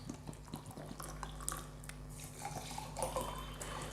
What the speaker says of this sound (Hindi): अब इसको कैंगन वाटर में डिप करते हैं।